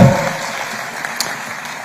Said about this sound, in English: Another round of applause for the Honorable Minister.